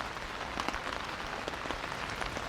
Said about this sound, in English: This rain is definitely on.